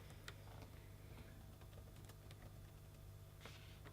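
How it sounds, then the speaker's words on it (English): Steady keyboard typing at a computer while entering text for a party table label, a continuous soft patter of small clicks at close range over a constant low background hum, with no speech. "So I'm just typing that in."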